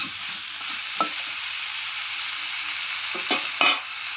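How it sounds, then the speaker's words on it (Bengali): Vegetarian bottle gourd curry stir-frying in a pan, a constant gentle sizzle with a few distinct spatula scrapes and knocks, one early and a pair near the end. "এটা কিন্তু হালকা করে 2-4 মিনিটের মতন এটাকে ভালো করে ভেজে নেব"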